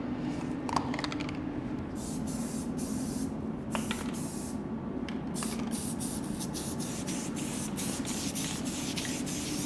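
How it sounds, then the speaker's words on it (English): A clogged aerosol can of SEM black coating hisses in steady, continuous spraying bursts, fairly close, with a few small clicks and taps along the way. "It still needs to spray a little bit better than that."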